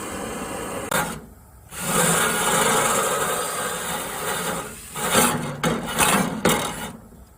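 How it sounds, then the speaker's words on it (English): Harsh rasping and grinding from a drill-driven wire wheel stripping paint from a Ford F-150's metal, running in long continuous passes with brief pauses between bursts. "took a wire wheel and a drill, and knocked off the paint"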